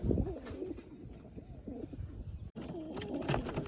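Pigeons coo softly and repeatedly close by on a rooftop at night, their low throaty calls rising and falling with no talking.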